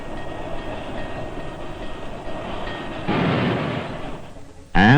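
A train rolls through a railroad crossing, a steady rumbling roar building in the middle and ending in a sudden loud burst.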